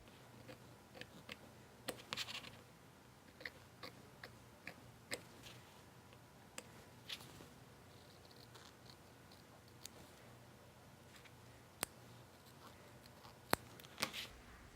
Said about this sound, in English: I actually cut them out with a pair of scissors